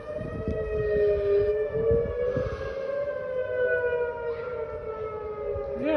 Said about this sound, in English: Oh boy, those sirens,